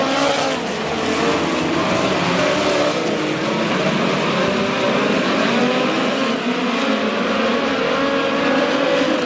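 Midget race cars roar past on the dirt oval at Lake Ozark Speedway, a continuous loud engine drone with revving and rising and falling pitch as the cars pass, with no voices.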